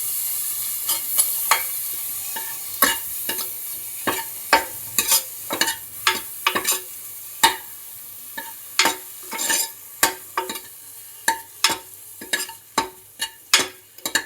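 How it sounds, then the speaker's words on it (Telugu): Paneer pieces added to a pan of vegetables for a paneer roll, with a steady low sizzle of frying beneath repeated sharp scraping and stirring clicks from a spatula, close and fairly loud, no talk. "ఫస్ట్ వీటిలో పన్నీర్ ముక్కలు వేసుకుందాం."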